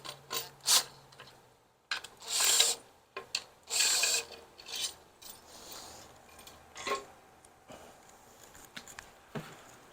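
Bolts being undone on a Ford 302 small-block water pump: a close series of metallic ratcheting clicks and scraping tool bursts, in irregular short spurts separated by brief pauses.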